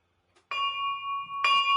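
Two bright metallic bell strikes, the first ringing out and sustaining for about a second before a second strike renews the tone; clear and close with no talking.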